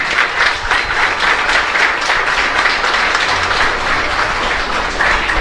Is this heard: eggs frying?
no